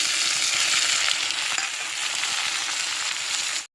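Tomatoes go into a pan of sautéing onions, a loud, dense, continuous frying sizzle that holds steady and then cuts off abruptly at the end.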